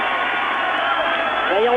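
A football stadium crowd at Auxerre versus Copenhagen applauds in a broad steady roar while a match commentator talks over it, with the crowd noise forming a dense bed beneath his voice.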